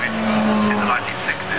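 Historic saloon race cars, including a Mustang and a Galaxy, battle in a five-car pack out of Paddock Hill bend at Brands Hatch, engines droning steadily and loudly throughout with a commentator talking over them.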